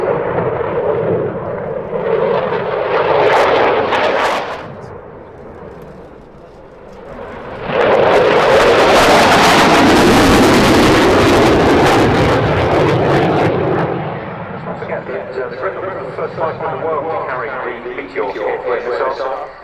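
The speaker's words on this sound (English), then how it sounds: "The Gripen E is the single seat model of the new generation Gripen." A Saab Gripen E single-seat jet fighter roars through a flying display at RIAT 2025, a loud rushing engine blast that swells to a thunderous peak as it passes, then fades, with a voice talking over it.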